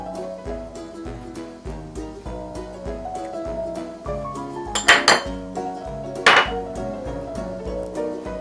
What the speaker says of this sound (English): Two dessertspoons of oyster sauce. I'm going to mix them, wrap into all over the salmon.